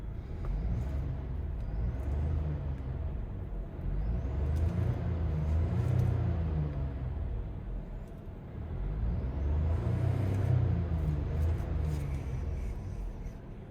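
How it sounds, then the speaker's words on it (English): A small three-cylinder engine in a 2022 Geely Coolray Sport idles, then revs up twice in smooth swells and falls back, a near, steady throaty drone. "Let's give her a few revs and check how she sounds."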